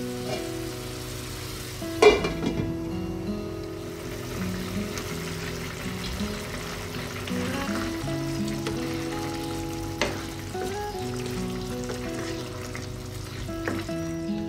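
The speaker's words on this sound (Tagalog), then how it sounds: "Sisimmer lang natin siya hanggang sa lumambot po yung ating baka." Beef for Filipino beef pares simmers in a covered pot, giving a soft, continuous bubbling with gentle pops and a faint clink or two, steady and close throughout.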